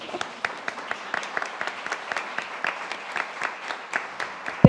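An audience applauds a guest at a panel table on domestic work, a steady patter of many hands clapping at moderate volume with scattered louder claps, no talk over it.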